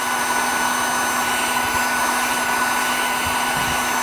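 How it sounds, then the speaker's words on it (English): An electric heat gun melts old candle wax in containers, blowing a steady, loud, close whoosh with a faint hum underneath that runs unbroken throughout, with no talking. "I really should use gloves when I'm working with a heat gun"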